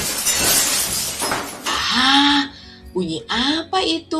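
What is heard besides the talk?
bird crashing into house window glass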